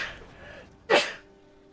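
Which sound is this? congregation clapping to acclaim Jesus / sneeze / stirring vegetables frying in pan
sneeze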